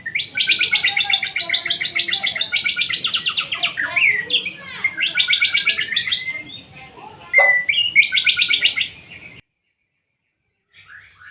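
A white-rumped shama (murai batu) sings loud and close in a rapid, varied stream of bright whistles, trills and chattering phrases, pausing briefly before falling silent near the end.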